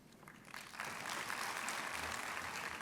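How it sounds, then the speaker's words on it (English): Audience applause welcoming dignitaries at a university valedictory session, a dense wash of many hands clapping that swells after the first half-second and holds steady and fairly distant, with no voices over it. "put your hands together once again in welcoming all the dignitaries with a big round of applause"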